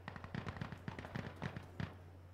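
Rapid automatic gunfire in Insurgency Sandstorm: a quick string of a dozen or so sharp shots in uneven bursts, fairly close, over a low steady hum, ending in a final pair of cracks.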